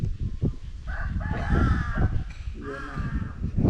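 A crow caws several times outdoors in Buriram, Isan, its harsh drawn-out calls fairly close over a steady bed of ambient noise.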